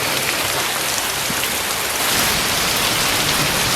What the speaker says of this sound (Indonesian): Di suatu malam saat hujan turun